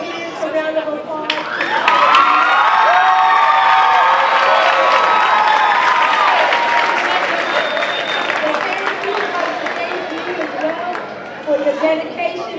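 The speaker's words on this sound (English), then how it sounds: "Let's give your parents a round of applause" A crowd at a high school honor roll assembly breaks into loud, sustained applause with some cheering, clapping rising quickly and then tapering off toward the end.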